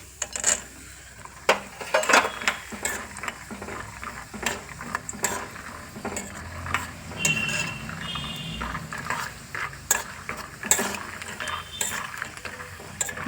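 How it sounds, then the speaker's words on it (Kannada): Peanuts tipped into a pan and stirred, producing irregular clinks, scrapes and rattling knocks of nuts and spoon against metal, close and busy throughout. "ಈಗ ಕಡಲೆ ಬೀಜ ಹಾಕ್ಕೊಳ್ತಾ ಇದ್ದೀನಿ"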